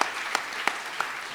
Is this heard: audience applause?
yes